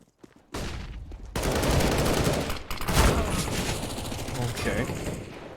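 Dense rapid gunfire from Counter-Strike: Global Offensive match play, sustained automatic bursts and shots for several seconds, loud and continuous, with a caster's voice talking over the action.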